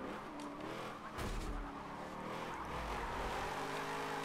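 A race car in the video game Forza 7 nearly hitting the wall, faint engine whine with a brief tire squeal and skid partway through, no talk over it.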